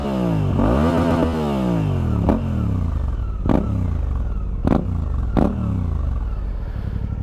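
A Suzuki V-Strom 800DE twin-cylinder motorcycle, tested with a stock or aftermarket exhaust, idles loudly close by and is blipped in short throttle bursts, with rising and falling revs and several sharp exhaust pops.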